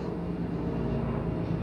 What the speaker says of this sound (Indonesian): Ada helikopter lewat ini agak berisik.